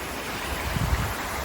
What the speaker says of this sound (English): There's the creek. I think this is flowing out of Pamelia Lake